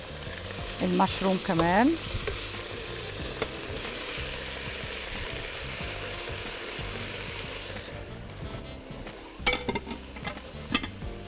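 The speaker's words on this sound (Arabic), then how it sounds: "دلوقتي اللحمة ابتدت تتقلى عندنا" Minced meat frying in a pan for a dish with vegetables and béchamel, giving a steady close sizzle throughout with a few utensil scrapes near the end, while someone speaks briefly at the start.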